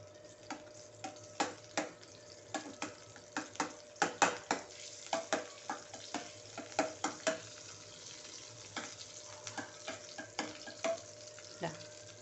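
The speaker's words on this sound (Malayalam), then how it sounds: "തേങ്ങയും ഒന്ന് വറുക്കുക" Cashew nuts and grated coconut fry in ghee, giving a soft sizzle under repeated sharp clicks and taps of a spoon stirring against the pan, faint and close.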